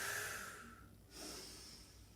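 A breathy exhale during a yoga exercise, one long airy breath that fades, then a second softer breath, close and quiet.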